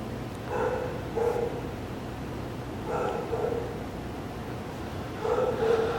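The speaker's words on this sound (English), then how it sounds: "The dog's barking right here" A dog barking during an obedience training session, three separate bursts of short barks spaced a couple of seconds apart, moderately close over steady outdoor background noise.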